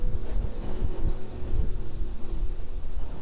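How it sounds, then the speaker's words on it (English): Strong wind gusts in a mountain windstorm batter a truck and the microphone, loud, low buffeting roars that pulse and surge in uneven gusts throughout. "We're caught in the windstorm"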